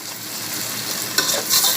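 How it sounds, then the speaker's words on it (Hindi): Chicken frying with garlic and ginger in a pan, a steady loud sizzle with a few stirring scrapes near the end. "इसलिए लहसुन अदरक के साथ पहले इसको भून लिया जाता है।"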